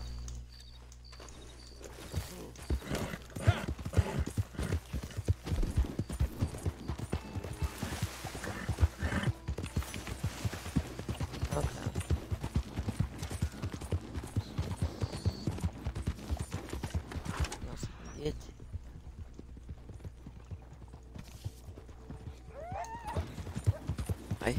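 In the video game Red Dead Online, a horse clip-clops at a steady walking rhythm for a long stretch, its hooves fairly close. A brief neigh rises near the end.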